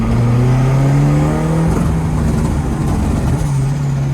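A K24-swapped turbocharged Mazda RX-7 with antilag pulling hard in second gear: loud, close engine roar rising in pitch, then rough crackling and popping from the exhaust as it lifts off.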